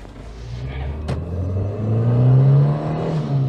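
A Citroen BX 19TRS with a 1.9 litre carbureted engine driving, its motor humming steadily and rising in pitch as it accelerates, heard from inside the car with a brief clatter early on.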